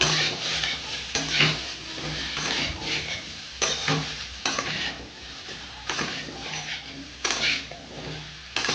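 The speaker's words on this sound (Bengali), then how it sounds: "নাড়তে থাকবো।" Bottle gourd with chilli powder stirred in a pan, repeated scraping and clattering of a spoon against the pan over a low sizzle, close and fairly loud, no talking.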